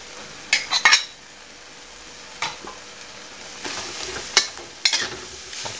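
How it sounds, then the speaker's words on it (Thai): Shrimp and holy basil leaves are stir-fried in a hot pan, a close sizzle broken by sharp clinks and scrapes of the spatula against the metal. "พอเสร็จได้ที่แล้วเราใส่กะเพราลงไปเลยนะครับ"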